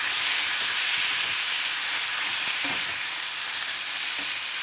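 A spiced potato mixture sizzles and hisses steadily in a hot pan as it is stirred, with a few soft scrapes of the spoon against the pan and no talking.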